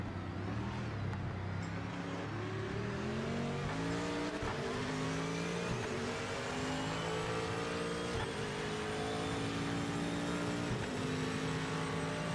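Corvette race car in RaceRoom racing sim, its engine roaring loudly and steadily as it climbs and shifts through the gears, with repeated rising revs and no talk over it.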